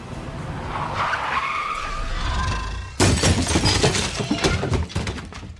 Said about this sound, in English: Isaiah, step on the brakes.